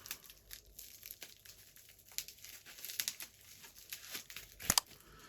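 A lost parcel being unpacked, its packaging crinkling and rustling in irregular bursts with one sharper tear near the end, close and quiet with no talking.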